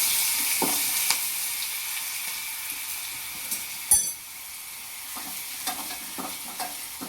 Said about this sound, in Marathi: तर आता हे मिरच्या आपल्याला तेलामध्ये सोडून द्यायच्या आणि मस्त असं थोडंसं परतून द्यायचं